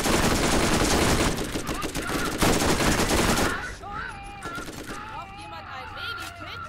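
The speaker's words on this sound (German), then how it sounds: "Irgendwo schießt ja auch noch einer." Rapid bursts of gunfire from the video game Borderlands crackle loudly for several seconds, then drop away to quieter scattered shots under game tones and chimes.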